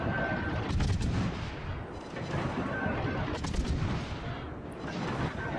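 Naval gunfire from the USS Kidd destroyer in World of Warships: Legends: repeated booming shots in quick succession over a continuous rumbling bed, with a few sharper cracks, fairly distant and steady.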